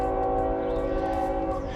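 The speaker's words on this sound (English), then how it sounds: "I hope that train doesn't mess with my audio." A train passes nearby, its horn sounding as a steady, loud multi-tone blare that holds over a rumbling rail noise throughout, with no talking.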